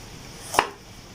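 One quick knife slice through a firm lime, a brief close chop against a cutting board with near silence around it.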